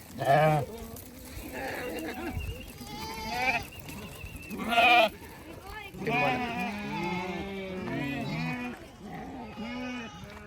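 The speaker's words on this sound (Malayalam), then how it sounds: "അല്ല ചെമ്മരിയാണ് ചെമ്മരി" Several sheep bleat loudly and repeatedly nearby, overlapping calls rising and falling across a quiet rural background.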